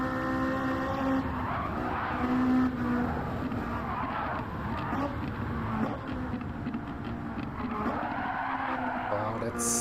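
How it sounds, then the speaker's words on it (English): A race car downshifting to second gear into a tight turn, engine droning loud and continuous with revs rising and falling and tires scrubbing, under steady commentary talk. "Second gear downshift unsettled the car a bit."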